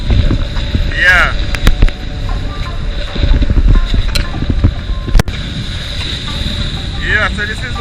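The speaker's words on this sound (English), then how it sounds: "strong wind, strong current, and strong breeze" Strong wind and rough sea from aboard a boat, constant buffeting wind noise and churning water with engine rumble, loud and close, with a few sharp knocks and squeaks as the hull moves.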